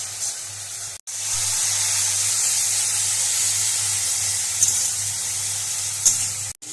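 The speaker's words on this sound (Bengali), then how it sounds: "গ্যাসের ফ্লেমটা একটু হাই করে দিয়ে ভালোভাবে কষিয়ে নিচ্ছি, তেল ছাড়া পর্যন্ত অপেক্ষা করব।" Spice masala sizzling hard in hot oil over a high gas flame while cooking chicken polao, a steady, loud, close hiss that runs unbroken apart from one short gap.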